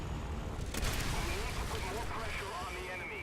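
A warplane goes down in a War Thunder air battle, heard as a dense, steady roar of engine and rumbling blasts with a brief louder burst early on, continuous and close throughout.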